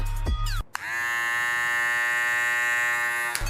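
A loud, steady electric buzz from cordless hair trimmers starts abruptly, holds for about three seconds, then cuts off, with a brief earlier burst before it.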